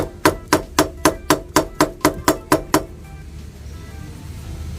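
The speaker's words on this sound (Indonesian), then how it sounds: "Kalau menggunakan palu karet jauh lebih aman." A rubber mallet strikes a workpiece in a workshop, about ten sharp, evenly spaced blows close by, followed by a quiet room tone.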